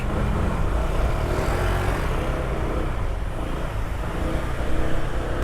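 Road traffic noise heard from a Honda PCX scooter-style motorcycle riding through a busy street: a steady, loud broadband rumble of engines and passing vehicles throughout, with no talking.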